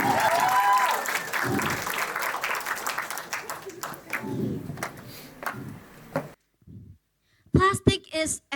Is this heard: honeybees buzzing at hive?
no